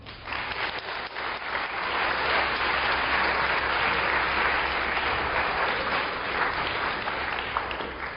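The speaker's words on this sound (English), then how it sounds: "Can we get a round of applause for our winners?" Sustained applause from a lecture audience for game winners, a dense even wash of clapping that swells after a moment and holds steady for the whole stretch.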